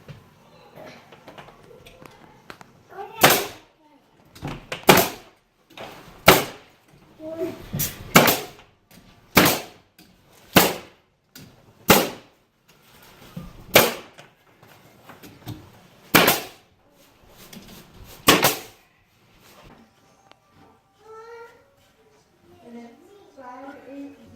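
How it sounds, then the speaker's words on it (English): Window trim casing gets nailed along its outer edge, with about a dozen sharp, loud nail-gun shots fired at uneven intervals of one to two seconds, close by, with brief speech near the end. "now we're going to nail the outside of the casing"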